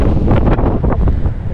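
Strong wind beside the sea, at a fishing spot after a storm, buffets the microphone in loud, continuous rumbling gusts, with surf washing underneath.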